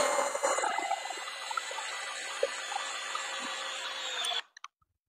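A power drill drives an 8-inch timber lock screw into wood, making a steady, loud, continuous whir for about four seconds. It then cuts off abruptly, followed by a few small clicks.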